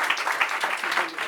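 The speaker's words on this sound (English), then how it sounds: "give him a round of applause" A comedy club audience applauds in a steady wash of clapping that carries evenly throughout, with some crowd voices mixed in.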